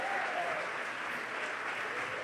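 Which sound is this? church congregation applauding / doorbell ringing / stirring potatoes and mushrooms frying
church congregation applauding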